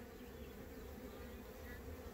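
Honeybees buzzing around a frame of capped brood in a hive, a dense continuous hum close by with no pauses and no voices.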